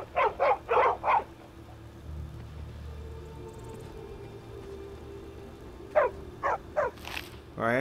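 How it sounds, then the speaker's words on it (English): A dog in Skyrim VR barks in quick bursts, four sharp barks at the start and another run of barks near the end, with quieter background sounds in between. "This is where I got my doggy."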